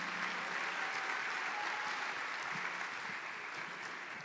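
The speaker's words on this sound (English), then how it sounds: "big round of applause for Miss Angel Barnes." Audience applause at a Stanly County Dancing With the Stars 2024 event, a dense, even wash of many hands clapping that holds steady throughout without voices.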